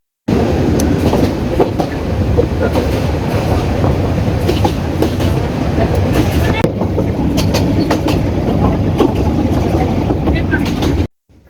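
A crowded passenger train on an Eid holiday trip to Jamalpur, Bangladesh, rumbles steadily along with dense, continuous rolling noise and faint clatter throughout, stopping abruptly at the very end.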